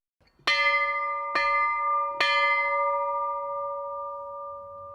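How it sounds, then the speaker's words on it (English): Ship's bell from the Sithonia, struck three times with bright metallic clangs spaced about a second apart, each ringing on with a long, sustained decay, loud and close with no talking. "That, Sarah, is the bell from the Sithonia ship."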